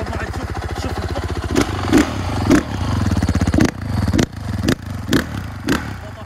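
A Honda CRF 450 motocross motorcycle engine idles with a steady low putter, broken by several sharp revs and clattering bursts, loud and close.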